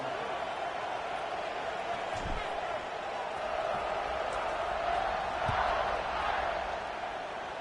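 Simulated stadium crowd in the College Football 26 video game during a Notre Dame game, a steady, moderately loud roar of cheering with a couple of dull thumps, while an announcer talks over it.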